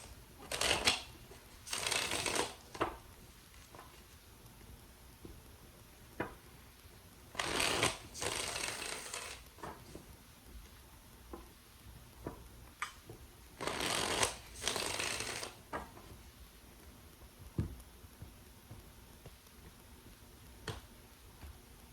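A deck of tarot cards is shuffled in several bursts of quick riffling, separated by pauses with scattered soft taps and card handling, close and clear.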